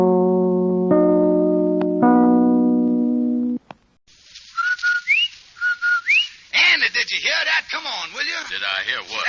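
Rinso White whistle from an old-time radio advertising jingle: a clear two-note rising whistle repeated a few times, preceded by sustained harmonic tones and followed by busier broadcast sound.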